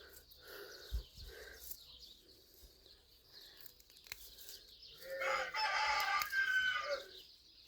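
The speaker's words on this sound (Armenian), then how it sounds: "Ահա, արդեն մտել են իրանց բունը հավերը։" Chickens settling into their coop cluck faintly at a distance, with a rooster crowing more loudly toward the end of the stretch.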